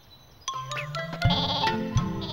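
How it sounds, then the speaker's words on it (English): Cartoon sheep bleat in a few short, close, comic bleats over light background music and sound effects in an animated scene. "one of my sheep fell too"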